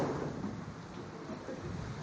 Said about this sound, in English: we are having an awesome tropical storm